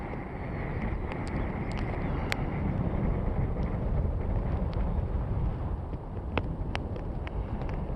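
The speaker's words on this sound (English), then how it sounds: "Getting a little windy." Wind gusts steadily across an Alaskan lake on the trail to Crescent Lake, a dense, fairly faint roar with buffeting on the microphone and a few small clicks and knocks.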